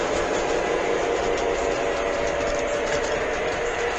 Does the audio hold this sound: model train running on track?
yes